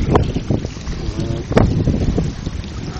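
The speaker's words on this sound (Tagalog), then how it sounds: "O, ito na yung tunog ng dagat, Jonah." Seashore with wind buffeting the microphone, a rough broadband rush of waves and gusts with a few louder thumps, loud and close throughout.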